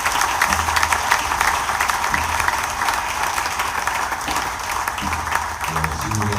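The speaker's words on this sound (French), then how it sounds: "Et c'est pour acclamer le Seigneur." A church congregation at a service in Kinshasa applauds to acclaim the Lord, sustained loud clapping and crowd noise carrying on throughout with rhythmic bursts.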